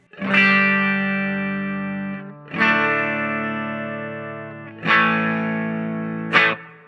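Clean electric guitar chords ring out one after another, each sustaining and decaying with a light wash of reverb, ending on a short strum.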